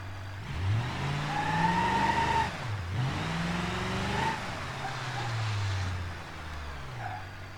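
A video-game vehicle drives and steers into a bush with soft collisions, its engine humming and revving with rising and falling pitch, a brief dip as it meets the bush, then continuing at steady moderate loudness.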